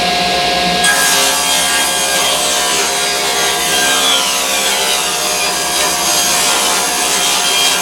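Saw cutting a 3/4 inch pine board for a kitchen base cabinet, a loud continuous rasping rip running unbroken for several seconds, close up with no talk.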